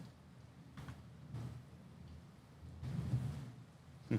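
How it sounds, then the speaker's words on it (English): Low rolling thunder during a nighttime rainstorm in La Paz Centro, Nicaragua, rumbling in a few swells and growing louder near the end, with steady rain noise underneath. "Can you guys hear the thunder?"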